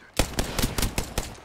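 Rapid video game gunfire, six loud sharp shots in a steady rhythm about a fifth of a second apart, close and punchy with no talk.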